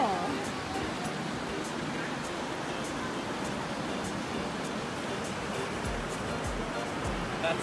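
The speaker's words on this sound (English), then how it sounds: "you can pour the whole thing in the ocean and all the liquid nitrogen floats on top" Liquid nitrogen poured into the ocean at the shore: a steady, broad rushing hiss of surf and water fills the whole stretch, with a few low thumps near the end.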